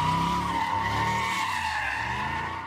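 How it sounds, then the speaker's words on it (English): Tires squeal in a long, sustained high-pitched screech at a street sideshow, with engine noise rumbling underneath throughout. "Tires screeching, cars crashing, and sparks flying."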